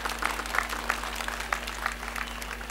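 An audience in a lecture hall claps in a steady, even patter of many hands, moderately loud and sustained with no cheering, over a low electrical hum.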